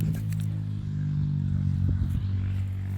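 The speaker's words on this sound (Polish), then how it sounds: "O, motor jechał." A motorcycle passes outdoors with a steady low engine drone throughout, moderately close and fairly loud, with no talk over it.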